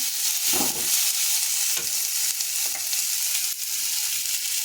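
Potatoes cook in a pan with tomatoes and are stirred through a constant frying sizzle, with several soft scraping strokes from the spoon.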